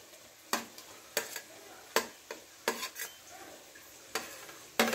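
Prawns stir-fried in a frying pan for egg fried rice: sharp spatula clacks against the pan come every second or so over a faint, steady sizzle.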